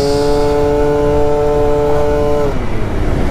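An Aprilia SR 172cc scooter engine drones steadily at high revs while riding, a loud continuous tone that drops in pitch near the end as the throttle eases.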